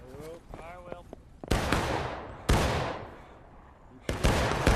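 Musket volleys from a War of Rights battle, three loud, sharp bursts of massed gunfire, each trailing off in a long rolling echo. A voice speaks briefly near the start.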